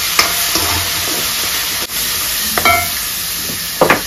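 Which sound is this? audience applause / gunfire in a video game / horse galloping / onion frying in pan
onion frying in pan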